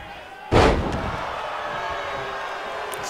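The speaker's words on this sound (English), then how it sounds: "Slamming him down, going for the pin," A pro wrestler slams an opponent down onto the mat, a single heavy, booming impact that rings out, followed by a sustained crowd rumble.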